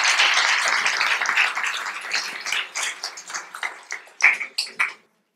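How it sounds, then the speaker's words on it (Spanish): A lecture audience gives applause for a speaker introduced to present a talk on Jesus of Nazareth, dense clapping at first that thins into scattered, separate claps before stopping. "Un fuerte aplauso para él."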